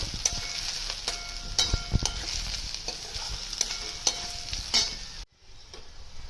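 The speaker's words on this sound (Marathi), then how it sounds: "आणि हिरवी मिर्च हे चांगलं परतून घेऊया" Green chillies, cabbage Manchurian and capsicum sautéing in a pan, a constant bright sizzle with regular spatula scrapes and taps against the pan, close up, before the sound cuts off abruptly near the end.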